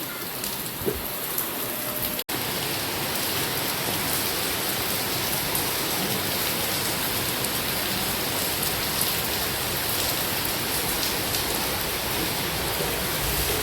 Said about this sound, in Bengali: রান্না করতে করতে এদিক দিয়ে যে বৃষ্টি চলে আসছে, আলহামদুলিল্লাহ বছরের প্রথম বৃষ্টি